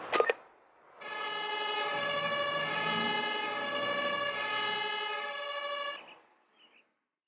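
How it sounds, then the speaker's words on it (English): A heavy rescue vehicle's siren in Emergency 2016 blares as a steady, loud multi-tone wail for about five seconds, following a brief thump at the start and cutting off abruptly at the end. "Now bring the heavy rescue vehicle into the mission area."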